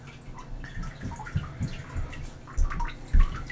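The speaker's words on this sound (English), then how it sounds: "We have this beast of an air pump. Right now just one is going." An air pump aerates the water of an IBC tote aquaponics tank, with one of two pumps running. Steady bubbling and gurgling continue throughout, with a few louder low splashes near the end.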